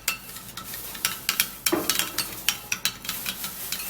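A spoon stirs a skin peeling treatment mixture in a small container, giving quiet repeated scraping and clinking strokes in an irregular rhythm, close and fairly soft, with no talking.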